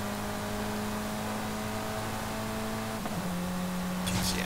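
A 2019 Elemental RP1 accelerates in Forza Horizon 5, its engine giving a steady, droning tone that shifts pitch with a gear change near the end, followed by a brief burst of higher noise.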